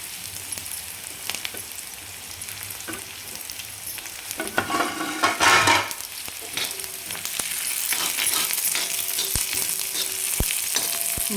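Onion, garlic and curry leaves sauté in a pan with a steady close sizzle, a brief louder burst as ingredients are stirred, then continuous frying hiss.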